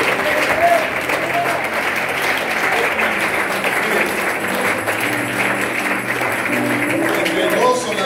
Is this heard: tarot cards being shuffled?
no